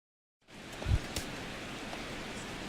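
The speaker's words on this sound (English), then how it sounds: "as the rain continues to fall here" Rain falls during a baseball game in MLB The Show 16, a steady even hiss that comes in after a short silence and carries on evenly, with a brief low thump early on.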